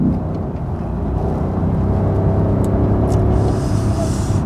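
Lexus LC500 coupe with a ten-speed transmission accelerating hard on a race circuit, a loud, steady, deep engine roar heard from inside the car, building continuously without pause and with no talking.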